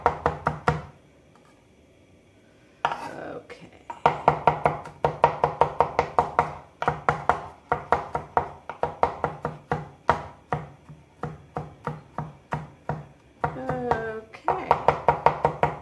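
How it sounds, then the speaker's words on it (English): A knife minces food, including onion, on a cutting board in quick, rhythmic bursts of close, sharp knocks, with a brief pause and a few spoken words. "let's get busy with the slicing and the dicing and the mincing"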